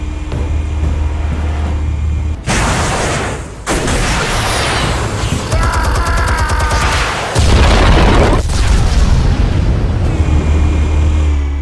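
Explosives detonating in a series of heavy, loud booms, each followed by a long rumbling roar and debris noise, with a deep low hum between blasts.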